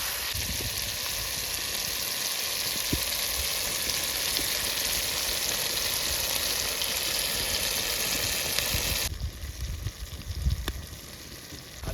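Jiol fish, potatoes and spices fry in a pan with a constant loud sizzle, punctuated by occasional stirring clatters, and the sizzle drops lower near the end.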